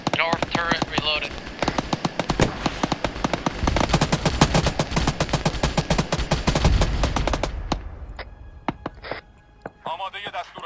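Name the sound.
turret gunfire in video game Arma 3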